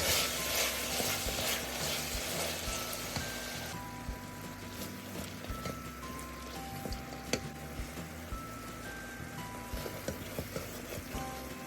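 Chopped ripe tomatoes fry in a pan for tomato rice, a soft continuous sizzle with occasional light clicks and scrapes, heard close by.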